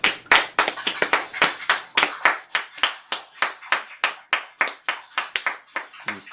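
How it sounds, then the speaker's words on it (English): A steady run of sharp hand claps, about three per second, close and loud, with no voices. "Everybody, give him a round of applause."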